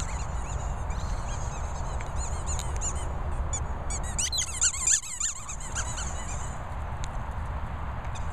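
A squeaky dog toy squeaks in a rapid run of sharp, high chirps, loudest in a brief burst near the middle, over a steady noisy indoor background.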